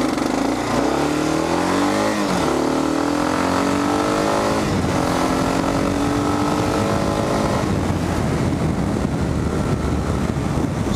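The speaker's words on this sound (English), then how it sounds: "650cc motorcycle." A 650cc dual sport motorcycle revs hard through several gears, its engine note climbing and dropping with each shift under heavy wind roar, loud and close throughout.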